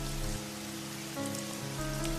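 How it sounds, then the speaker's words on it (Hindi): Heavy cartoon rain patters steadily across a surface, a dense hiss that runs throughout beneath sustained background music tones. "तभी तेज बारिश शुरू हो जाती है।"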